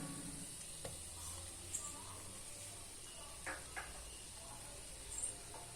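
Kashmiri red chili, coriander and turmeric powders roast in a pan for butter chicken, giving a quiet, steady sizzle broken by a few soft stirring scrapes and clicks.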